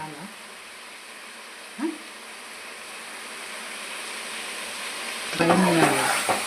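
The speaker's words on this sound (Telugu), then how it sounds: "కొంచెం టేస్ట్ మారుతుందని చెప్పి మేమైతే ఫ్రై చేస్తున్నాము" Sambar ingredients frying in a pan give a soft, steady sizzle, with brief stirring clatters and a short burst of voice near the end.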